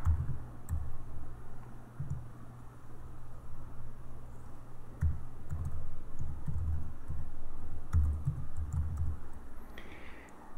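Quiet, scattered clicks and soft key taps come from someone typing a username and password on a computer keyboard, with irregular bursts over a low steady background hiss.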